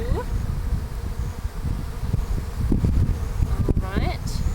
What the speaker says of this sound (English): Move out of the way, bees.